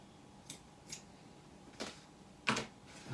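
Scissors trimming in a few separate crisp snips, close and distinct, spaced unevenly with short quiet gaps between cuts and the last snip loudest.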